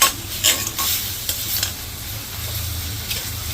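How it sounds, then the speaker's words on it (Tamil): Masala with coriander powder fries in a pan for a mushroom fry, a constant sizzle broken by several sharp scraping stirs near the start and then a few more. "மசாலா ஃப்ளேவர் வர வரைக்கும் ஃப்ரை பண்ணுங்கள்"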